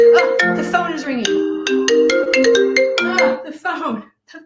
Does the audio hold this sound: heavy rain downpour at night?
no